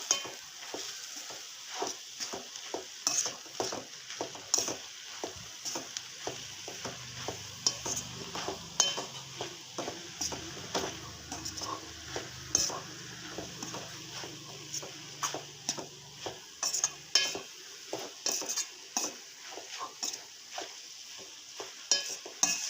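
Curry being stirred in a pan with a little added water: a rhythmic series of spatula scrapes and taps against the metal over a soft simmering hiss, close and fairly quiet, with no speech.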